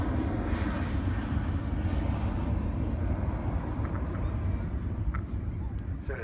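A Boeing 727 jet flying its display at the Farnborough Airshow, a steady, loud engine roar filling the whole stretch without a break, with faint talk mixed underneath.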